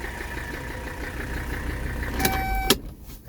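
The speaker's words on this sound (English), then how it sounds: "Let me turn off the car here." A 1984 Mercedes 300TD diesel engine idles with a steady rumble, then cuts out abruptly near the end, leaving a quiet hush.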